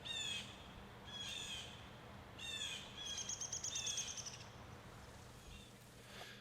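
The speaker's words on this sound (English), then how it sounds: "these shots of the birds, it was just James Hastings in between shots, and he saw some birds, so he just started filming them" Birds call outdoors in short bursts of bright chirps and squawks, with a quick run of repeated notes in the middle, heard alone over a steady low background rumble.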